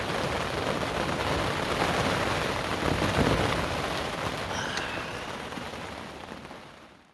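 Steady heavy rain falls at a carp lake, a dense, loud hiss that stays even throughout and fades slightly at the end.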